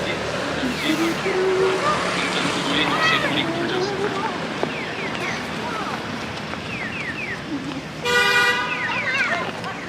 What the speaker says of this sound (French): Il klaxonne. Ça klaxonne ici. Premier klaxon de la journée.